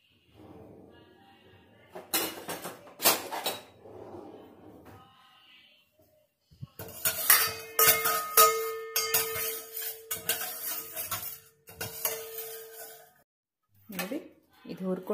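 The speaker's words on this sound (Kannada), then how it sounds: "ಉದ್ದಿನಬೇಳೆ ಮತ್ತು ಕಡಲೆಬೇಳೆ. ಇದನ್ನು ಹಾಗೆ ಡ್ರೈ ಆಗೇ ಹುರ್ಕೊಳ್ತೀನಿ," Urad dal and chana dal are dry roasted in a pan without oil, with scraping and stirring clatter in bursts and light clinks of a utensil against the pan.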